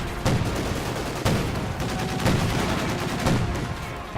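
Artillery and gunfire crash through a Company of Heroes 2 battle, with heavy booming impacts about once a second over a continuous rattle of small-arms fire, loud and dense.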